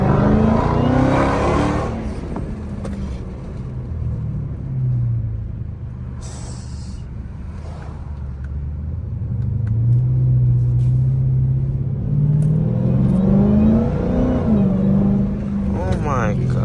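An 800 hp Dodge Hellcat accelerates hard, its engine droning loud and close from inside the cabin, easing off and then building again, with talk heard during the drive.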